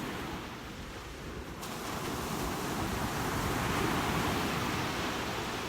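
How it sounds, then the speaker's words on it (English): Ocean waves wash onto a beach in a steady broadband roar that swells slightly louder midway, with some wind rumble and no talking. "I am so in love with these waves this morning."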